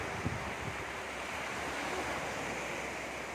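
Surf rolling onto Binmaley and Lingayen beach in Pangasinan, a steady broad wash of waves with wind buffeting the microphone and a faint low thump near the start.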